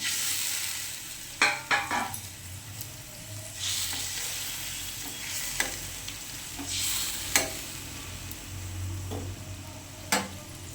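Fried fish pieces stirred into a sizzling fish curry. A steady hiss of frying runs throughout, broken by several sharp scrapes and clinks of the spatula against the pan.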